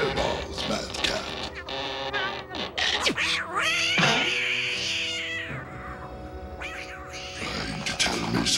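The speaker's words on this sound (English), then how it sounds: "Trying to tell me something, Mad Cat?" Mad Cat, the cartoon cat in Inspector Gadget Saves Christmas, lets out drawn-out, wavering meows and yowls in bursts over several seconds, close and fairly loud, mixed with music and other animated sound effects.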